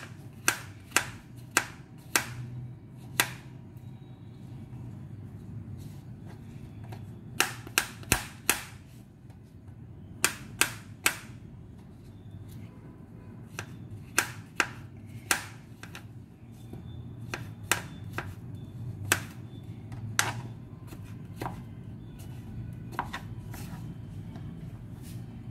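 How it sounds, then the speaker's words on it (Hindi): Knife chopping mushrooms on a board, a long run of sharp, irregular taps in quick bursts with pauses, clear over a low steady background hum. "So let's chop mushroom"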